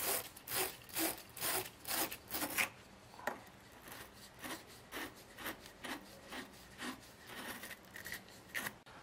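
Car battery terminal posts scrubbed with a metal wire brush, close rhythmic rasping strokes, quicker and louder at first, then slower and lighter.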